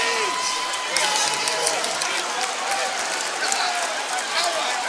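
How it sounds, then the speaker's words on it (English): Scattered applause and crowd noise from a basketball team bench after a missed three-point shot at a college game, a bright spread-out clatter mixed with murmuring and a commentator talking over it. "The Knights bench applauding the shot from Wire, even though it didn't go in."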